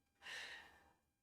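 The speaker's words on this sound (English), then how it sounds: "I find myself yawning a lot." A person yawns during a slow-flow yoga practice: one soft, breathy yawn that rises quickly and fades, very quiet and alone.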